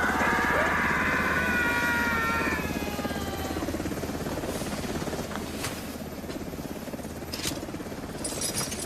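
A helicopter's rotor in the video game Delta Force Mobile thrums steadily and close, with a high engine whine at first and occasional faint clinks over the continuous drone.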